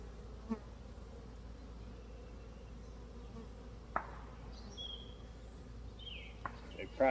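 Honey bees buzz continuously at low volume, a faint swarm drone with a few nearer passes and small clicks.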